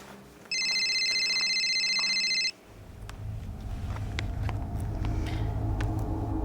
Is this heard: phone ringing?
yes